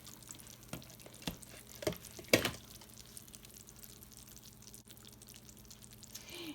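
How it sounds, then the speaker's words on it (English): A pot of beef broth boils quietly on the stove with soft bubbling, faint drips and a few brief clinks, low and steady throughout with no voices. "So we have the pot of beef broth boiling."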